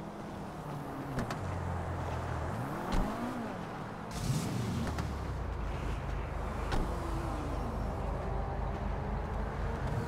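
A car engine in the video game GTA V drones steadily while driving, rising and falling with repeated revs and gear changes, with a brief louder burst midway and a continuous low rumble throughout.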